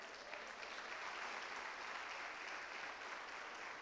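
Continuous applause from a congregation at a revival conference, a dense steady wash of many hands clapping, faint and distant, with no voices standing out.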